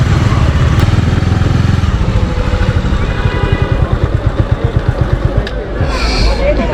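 A motorcycle taxi ridden through traffic, the engine's rapid thudding pulse close and loud under surrounding road noise, with people talking.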